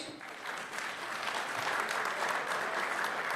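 Loud, sustained applause from a gathered crowd welcoming community elders at a Munnuru Kapu caste community assembly in Medchal district, steady clapping throughout with no break.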